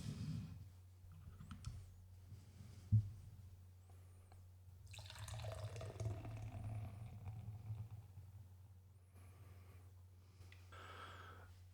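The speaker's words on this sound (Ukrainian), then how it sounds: "і наливаємо" Cloudy craft wheat beer pours from a can into a glass, a quiet gurgling rush with a faintly shifting pitch over a low steady hum, and a soft knock before it.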